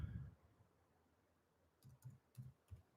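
A handful of soft keystrokes on a computer keyboard, four or five quick taps in a short burst after a quiet pause, faint and close.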